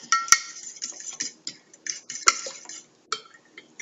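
Beaten eggs and milk are mixed in a bowl, with a utensil clinking and tapping against the sides in quick, uneven strokes, close and fairly quiet, with two sharper knocks.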